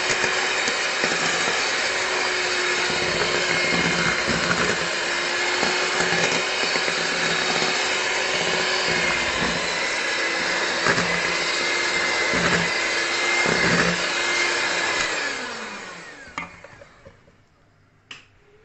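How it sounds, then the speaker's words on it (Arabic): An electric hand mixer beats tiger cake batter in a bowl, a steady loud whir that runs continuously for about fifteen seconds, then slows and winds down to stop, with a few light clicks at the end. "هضرب بقى المكونات بالمضرب بتاعي"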